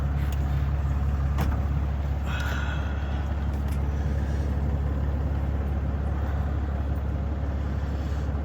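A freight truck engine idles while warming up on a cold morning, a steady, close, low rumble that holds constant throughout with no talking.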